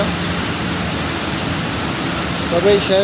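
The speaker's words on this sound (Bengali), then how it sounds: "তাই অনেক বৃষ্টি হইতেছে, অনেক মেঘ হইতেছে দেখতেছ।" Heavy monsoon rain falls under thick clouds near mango trees, a loud, dense, continuous roar of drops; a voice briefly rises over it near the end.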